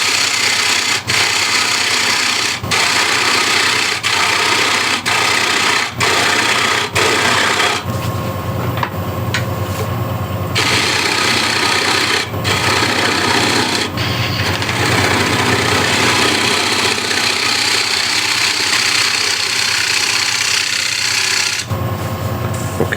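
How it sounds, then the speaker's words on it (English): A spindle gouge cutting a large wooden bowl on a spinning lathe, a loud steady whirring scrape broken by brief pauses and sharp ticks as the tool meets and leaves the wood. "And I can remove now the foot here. Still using spindle gouge."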